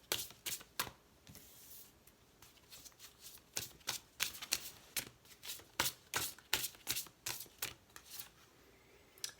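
Sacred feminine oracle cards being shuffled and drawn, a quick run of crisp papery riffles and snaps repeating steadily throughout, close and fairly quiet with no voices.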